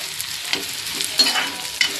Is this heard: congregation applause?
no